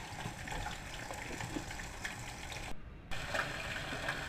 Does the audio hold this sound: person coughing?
no